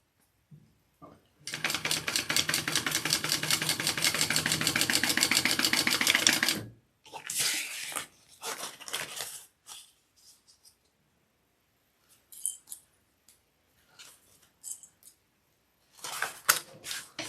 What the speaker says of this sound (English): We're going to take those and sew them on first, right sides together